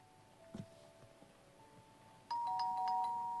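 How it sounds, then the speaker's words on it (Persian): Doorbell ringing in the horror video game The Baby in Yellow, a clear electronic chime that sounds suddenly and rings in repeated tones over a quiet background. "یه نفر زنگ در رو زد."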